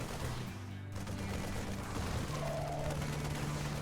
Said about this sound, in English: That fires a few shots off